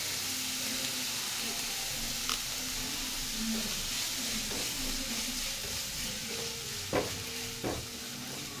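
Two chopped onions with salt sizzle and hiss steadily in a hot pan, with occasional stirring clinks and scrapes. Near and moderately loud, with no voices over it.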